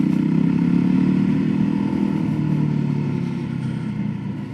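VOGE 300 Rally motorcycle riding through town streets, a steady close engine drone with a low rumble that eases slightly toward the end, with no talking over it.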